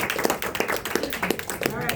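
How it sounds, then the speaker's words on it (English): Applause from an audience, a dense patter of clapping hands with voices mixed in underneath. "Give her a round of applause."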